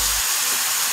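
The steam wand of a Rocket R Nine One espresso machine lets out a loud, steady hiss of steam after a brief low thump, close up and continuous with no talking.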